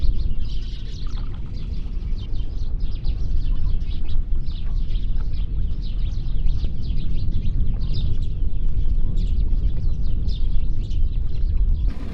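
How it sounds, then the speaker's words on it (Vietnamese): Small birds chirp and twitter steadily around an isolated house set among melaleuca trees in a flooded field, a continuous close chorus over a low rumbling background of wind or water, with no voices. "chim chóc bay về cất tiếng ríu rít suốt ngày"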